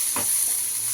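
Finely chopped capsicum, onion and carrot for gobi manchurian sizzle steadily in a pan over a medium flame, with a brief stirring scrape near the start.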